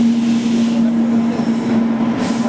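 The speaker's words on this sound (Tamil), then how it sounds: "அந்த சைடில் ஒரு ட்ரெயின் வருது" The Vivek Express, the Kanyakumari–Dibrugarh train, rolling into the station with a loud, steady rumble and a prominent droning engine tone, close and continuous.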